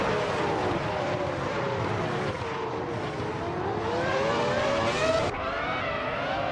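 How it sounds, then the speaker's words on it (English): Racing video game cars, including a classic 2000 McLaren MP4-15, roar off the start line together in a steady, loud engine drone with rising revs and a whooshing pass near the end. "Fort Iafro has shot off the line into the lead."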